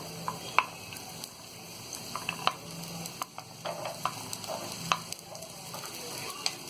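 Garlic and ginger sizzle steadily in a pan alongside softening onions, a close, continuous frying hiss punctuated by sharp crackles and occasional stirring clicks, with no talking.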